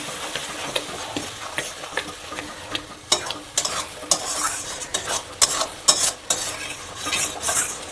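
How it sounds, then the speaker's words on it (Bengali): Chicken masala fries in a pan while a utensil stirs and scrapes it repeatedly, with steady sizzling under irregular sharp clinks of metal against the pan. "ততক্ষণ পর্যন্ত মশলাটা আমি কষাতে থাকবো।"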